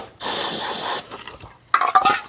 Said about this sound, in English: spray it with brake cleaner to get any crap